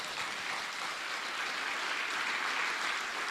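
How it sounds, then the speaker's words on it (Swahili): A university student audience applauds at an investment talk, a steady, even wash of clapping that is fairly soft and distant, continuing throughout with no speech. "Nipigieni makofi."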